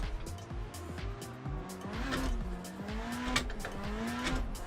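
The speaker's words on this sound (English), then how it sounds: "Let's do a quick handbrake turnaround here before anyone kind of catches me doing it" A car in a drifting video game swings through a handbrake turnaround, its engine revving and tires squealing in wavering, sliding tones over several seconds, sustained and fairly close with no talk.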